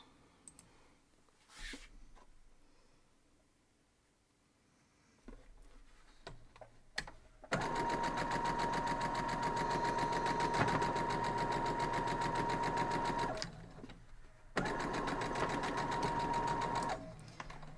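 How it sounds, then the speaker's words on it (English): A sewing machine stitches pieces of an antique tiles quilt block together in two long, loud runs of rapid rhythmic whirring. Quieter handling noises come before the runs and a short pause falls between them. "So then you're just going to fold that down, sew it together"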